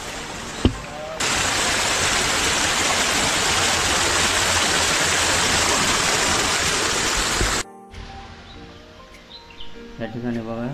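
Water pours over a small stone check dam out in the countryside: a loud, steady rushing roar that holds for several seconds, then cuts to a quieter outdoor scene with voices and birdsong.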